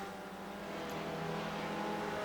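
Race cars lapping the Summit Point circuit amid lap traffic, a loud continuous engine drone with steady harmonic whine building slightly, no voices.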